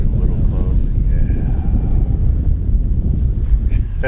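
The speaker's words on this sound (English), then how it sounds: "A little windy out here today." Steady outdoor wind rumbles against the microphone throughout, loud and unbroken, while people chat faintly underneath.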